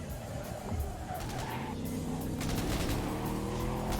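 Rapid gunfire bursts during a car race in the video game Cyberpunk 2077, crackling shots layered over a roaring engine and tire noise.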